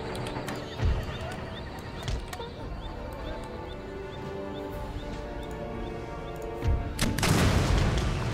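Cavalry horse guards in the strategy game Empire: Total War, heard as a clatter of hooves and neighing over a busy battle bed, with occasional booming shots and a loud burst near the end.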